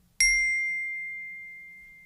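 A single bright metallic ding as the highest C of a small two-octave keyboard instrument is struck with a little wooden beater, ringing clearly alone and fading slowly over two seconds.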